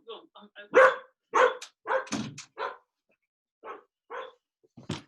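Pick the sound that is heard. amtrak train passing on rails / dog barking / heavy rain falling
dog barking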